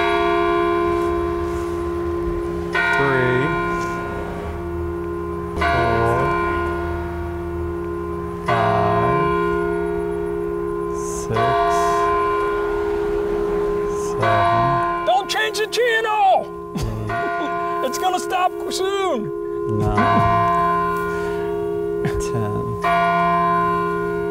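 Church bells toll in Webster Groves, steady repeated strikes with long ringing tones layered over sustained hum, a brief burst of higher chiming near the middle, loud and close with no talk.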